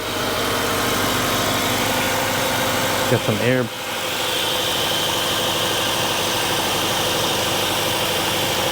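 A Kia Optima Hybrid engine idles smoothly with a steady, even hum heard up close, while a person speaks briefly partway through.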